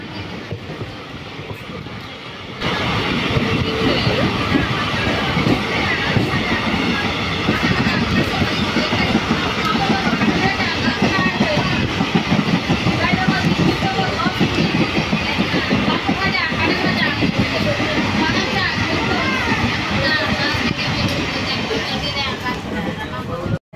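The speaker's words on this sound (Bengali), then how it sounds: "এই দেখো পাশ দিয়ে চলে যাচ্ছে অটোমোবাইল ক্যারিয়ার ট্রেন।" An automobile carrier train passes alongside on the rail line near Jhapandanga station, a loud, continuous rumble and rattling clatter of wagons that swells after a quieter opening and holds steady throughout.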